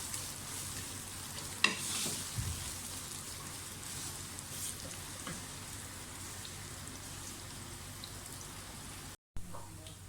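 Finely chopped onions fry steadily in a pan for a chicken badami korma, a continuous soft sizzling hiss with a few louder crackles and clinks, close by and with no talking.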